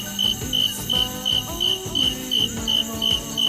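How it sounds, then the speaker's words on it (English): Grasshoppers chirp in a steady, even rhythm, a bright buzzing pulse repeating about twice a second, close and clear with no voices. "you could genuinely hear grasshoppers"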